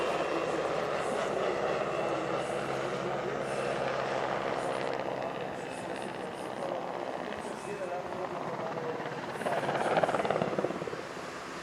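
W-3 Sokol helicopter of the Czech Air Force's 243rd Helicopter Squadron flying at the Radom Airshow, a steady rotor and turbine drone at moderate distance, swelling louder toward the end, with faint crowd background.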